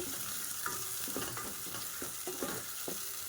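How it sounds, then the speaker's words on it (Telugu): Tomato-based fish curry masala frying in hot oil in a pan for a tamarind gulivinda fish stew, a steady close sizzle with soft intermittent stirring scrapes and no talk. "ఆయిల్లో ఫ్రై అయ్యే ఇలా టొమాటోలో ఫ్రై అయితేనే బాగుంటుంది"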